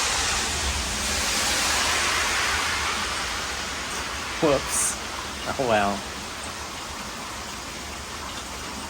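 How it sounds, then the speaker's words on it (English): Steady rain falls on and around a freshly washed Porsche 996, a broad continuous hiss lasting the whole stretch, with a brief spoken exclamation partway through. "And it rains."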